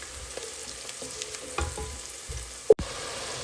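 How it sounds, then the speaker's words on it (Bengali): Shrimp being fried and stirred with spices in a pan, a soft steady sizzle with scattered scraping stir strokes and one sharp clatter near the end, no talking. "চিংড়ি মাছটাকে ভালো করে মশলার সাথে কষিয়ে নিচ্ছি"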